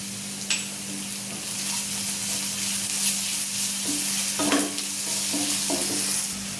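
Onion fries and sizzles in a pan as ginger and garlic go in, a steady close hiss running throughout, with a few scraping stirs and light clinks toward the end.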